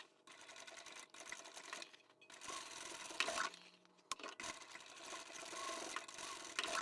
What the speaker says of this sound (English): Now we can go to the machine, sew across each one of these box corners